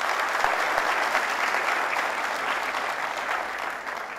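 An audience claps for a performer at a Hindi satsang stage event, with dense, sustained applause from a crowd that fades slightly toward the end.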